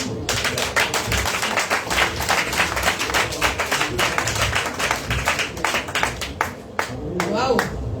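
A church congregation claps steadily and loudly in rhythm, sharp hand claps repeating throughout, with voices and some speech mixed in, close to the crowd.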